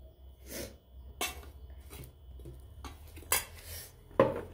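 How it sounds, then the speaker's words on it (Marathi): A dry spice mix of garlic, green chilli, salt, carom seeds, coriander and cumin being tipped into a mixer jar, a series of short clattering knocks and scrapes of utensils against the jar, with quiet gaps between them. "आता आपण हे मिक्सरच्या जारमध्ये टाकून घेणार आहोत."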